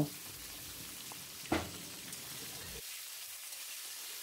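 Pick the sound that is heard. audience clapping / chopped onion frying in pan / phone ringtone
chopped onion frying in pan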